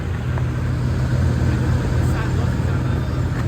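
A Chevrolet Caprice's engine runs steadily at idle, a continuous low rumble close by that holds an even level throughout with no other sounds over it.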